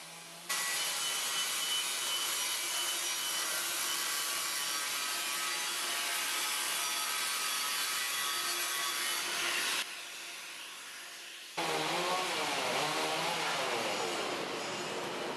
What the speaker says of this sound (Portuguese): Agora o soldador com uma esmerilhadeira limpa bem o cordão de solda, retira toda a escória